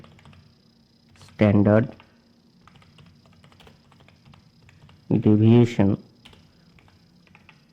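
Soft, steady clicking of a computer keyboard while writing LaTeX, continuing quietly in the background between two short spoken phrases.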